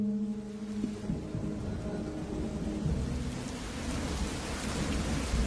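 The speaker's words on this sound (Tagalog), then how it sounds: "talagang inabot na kami ng malakas na ulan sa daan" Heavy rain pours steadily in a storm along a road, with a low rumble of thunder under a constant hiss of rainfall, close and unbroken, no talking.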